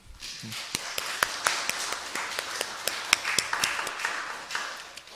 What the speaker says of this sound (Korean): 우리 격려와 또 격려의 박수 한번 하겠습니다